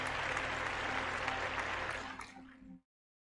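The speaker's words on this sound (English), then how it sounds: "we'll give her a big round of applause" Loud, dense audience applause holds steady for nearly three seconds, thins briefly, then cuts off abruptly into silence.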